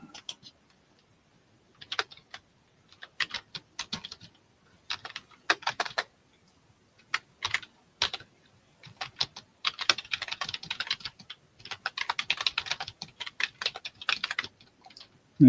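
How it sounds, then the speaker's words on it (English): Close keyboard typing comes in irregular bursts of rapid key clicks separated by short pauses, crisp and fairly loud, with no voices. "So you get this typed up here first."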